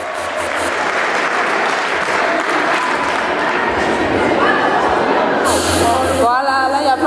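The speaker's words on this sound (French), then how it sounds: "Allez, on applaudit." Dense, steady applause from an audience at a sports awards night, loud and sustained for several seconds, with crowd murmur and a brief voice rising near the end.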